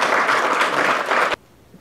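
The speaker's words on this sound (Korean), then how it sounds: "큰 박수 부탁드립니다." Dense audience applause fills a forum hall at the opening of a Gangdong–Hanam GTX-D rail line debate, a loud steady wash of many clapping hands that stops abruptly, leaving near silence.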